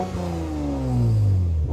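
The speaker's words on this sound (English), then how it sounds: "I'm still gonna insert the sound of a car racing here" A racing car's engine roars past in a short burst, its pitch sliding downward as it swells louder, then eases off.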